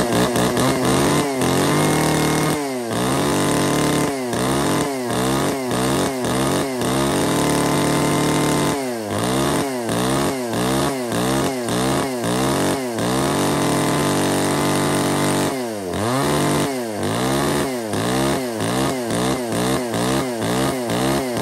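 A used Japanese-import chainsaw with a mini chain and a primer bulb runs loud and close, revving hard again and again with brief drops toward idle between bursts.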